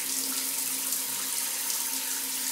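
Hot water runs steadily from a tap into a sink in Agadir, Morocco, giving a continuous close splashing rush without pause.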